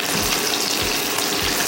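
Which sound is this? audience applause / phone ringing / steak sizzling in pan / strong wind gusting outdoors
steak sizzling in pan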